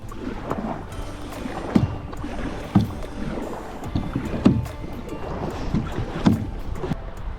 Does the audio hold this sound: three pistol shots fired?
no